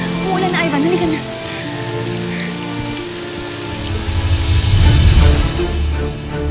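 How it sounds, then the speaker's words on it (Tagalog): Steady rain hisses over a surface in a dense, continuous wash, loud and close. A low rumble swells near the end, and no talk is heard. "Umuulan na, Ivan."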